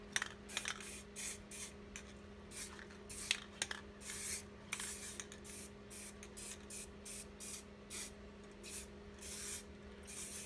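An aerosol can sprays white paint in short, rhythmic hissing bursts, many quick blasts in a row at close range, with quiet gaps between them.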